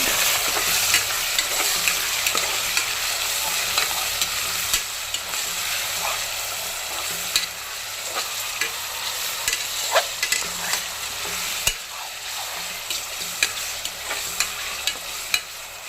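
Mutton sizzles and fries with salt in a pan, a steady broadband crackle with scattered sharp pops and stirring scrapes throughout, close and continuous with no talk.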